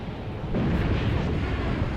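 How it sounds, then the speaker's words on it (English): A deep, rumbling artillery explosion from the World War II tactics game Graviteam Tactics: Mius Front, a low roar that swells after a short quiet start and carries on for the rest of the moment. "enemy is continuing artillery"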